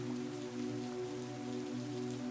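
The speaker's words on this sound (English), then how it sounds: "Today is a rainy day like this." Rain pours steadily on a rainy day, a faint continuous hiss of drops with no breaks, under a low hum.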